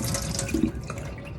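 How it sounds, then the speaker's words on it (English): Water from a pot of rinsed, softened cooked carrots drains into a kitchen sink in a steady, splashing rush, close by and alone. "I'm going to drain all of this water off as well"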